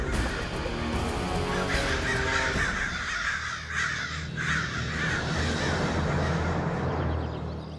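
Black crows cawing in an animated Aladdin series: loud, dense, overlapping caws that run steadily for nearly eight seconds over a busy background.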